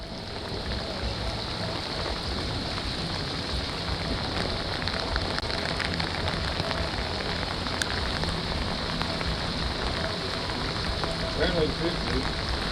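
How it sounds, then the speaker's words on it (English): Rain pours steadily on a fishing boat during a sheepshead trip, a dense, even patter of drops on surfaces throughout, moderately loud and close, with no clear talk. "It's raining."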